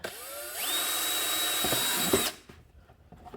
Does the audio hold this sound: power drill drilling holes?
yes